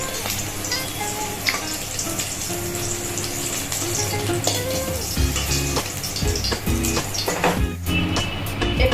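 Eggs fry in hot oil in a wok, giving a steady, close sizzle and crackle with a few sharp clinks of a utensil toward the end.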